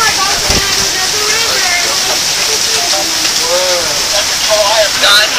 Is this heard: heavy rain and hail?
yes